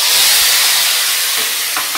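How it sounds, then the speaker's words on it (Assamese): Chopped tomatoes fry in hot oil already seasoned with cinnamon and cardamom for a tomato pickle, giving a loud, close, continuous sizzle and hiss with a few faint bubbling pops near the end and no talking. "বিলাহীখিনি অকণমান ভাজি ল'ম ইয়াৰ যাতে পানীটো নাইকিয়া হৈ যায়।"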